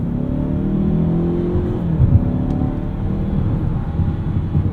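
A 2019 Mazda CX-5 Signature Turbo accelerates, its engine drone rising steadily in pitch under road rumble, heard from inside the cabin as a continuous hum.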